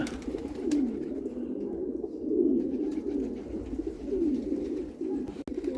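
Pigeons coo close by with low, rolling, repeated calls over a steady murmur, continuing throughout without talk.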